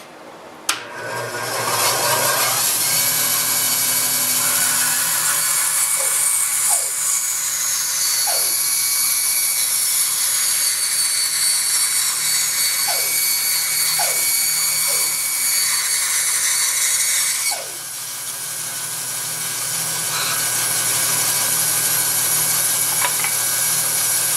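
A bandsaw cuts a finished wood blank for HO-scale cargo containers, starting with a sharp onset and then holding a steady high whine for about fifteen seconds before the cut ends and the motor runs on alone.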